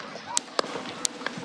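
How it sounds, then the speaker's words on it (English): Sharp gunshots at an outdoor political rally, four crisp cracks spaced irregularly over a murmuring crowd, heard at a moderate distance in news footage. "Gunshots heard ringing out."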